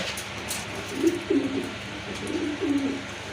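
Two low, rolling pigeon coos sound a moment apart over a faint background hiss.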